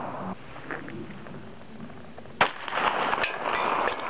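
A real handgun fires at a can outdoors, one sharp distant-sounding crack followed by a second fainter report, amid low background noise.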